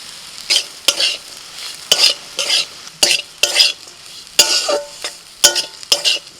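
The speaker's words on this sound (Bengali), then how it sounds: "সবজি আর মশলার সাথে ওটসটা 2 মিনিট নাড়াচাড়া করে নেব।" A spoon scrapes through oats with vegetables and spices in a hot pan, about a dozen distinct rhythmic strokes with a light sizzle underneath, close and fairly loud with no talking.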